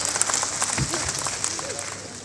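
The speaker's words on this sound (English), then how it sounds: "Please clap for them." Brief applause from an audience clapping for a group at a Nigerian accountants' association gathering, a short, fairly soft patter of many hands with a voice faintly underneath.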